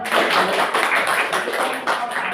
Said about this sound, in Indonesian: Tepuk 1, 2, 3, 4. Tepuk banyak.